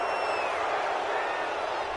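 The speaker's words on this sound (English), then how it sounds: "this crowd does not like that call" A stadium crowd in the Madden football video game reacts to a penalty call with a steady, dense roar of murmuring voices that holds evenly throughout.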